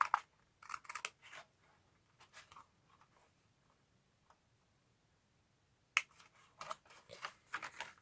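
Scissors cut masterboard card for a milk carton gift box, quiet close snips in small clusters with gaps of near silence between them.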